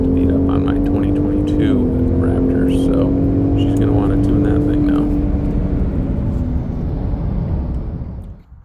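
A 2023 Ford F-150 Raptor and 2023 Bronco Wildtrak accelerating in sport mode, a loud steady engine drone that shifts pitch once, holds, then fades away at the end.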